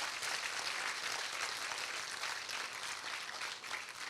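Audience at a Hindi poetry recital (kavi sammelan) claps together, a faint, distant wash of steady applause lasting a few seconds with no speech over it.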